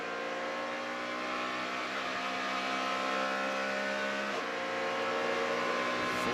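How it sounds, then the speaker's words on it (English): A race car engine howls at full throttle on a long flat-out stretch at the 2013 Brickyard Grand Prix, a loud, sustained high-pitched roar that holds and rises slightly. "And listen to this engine."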